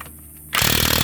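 A Ridgid cordless impact wrench kicks in abruptly during a tire change, a loud, harsh, rapid hammering burr close up after a brief quiet moment.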